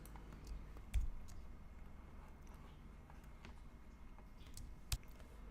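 Two faint, isolated mouse clicks, about four seconds apart, over quiet room hiss while someone works in Photoshop.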